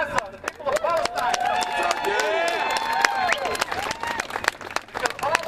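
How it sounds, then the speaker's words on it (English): A crowd at a Gaza solidarity protest in Columbus breaks into loud, sustained applause and cheering, with whistles and shouts rising over the clapping throughout. "give yourselves a round of applause for coming here, supporting the people of Gaza, the people of Palestine"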